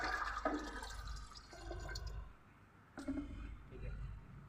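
Half a litre of water is poured into a jeevamrut mixture for crops, a soft splashing trickle that comes in two short pours close by, with a faint voice under it.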